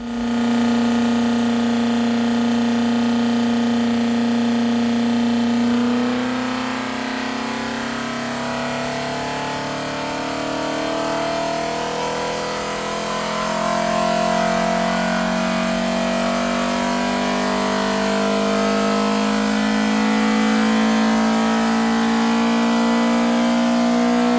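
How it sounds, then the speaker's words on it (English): A Ford Pinto engine fitted with Kent cams runs on a dyno with a loud, sustained drone, its pitch climbing and shifting slowly as revs build over a long, continuous pull. "show the engine on a run"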